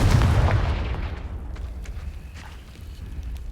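A Confringo spell in Hogwarts Legacy blasts apart a blocking pile of debris, a loud booming explosion that decays into a rumbling tail with scattered debris clatter.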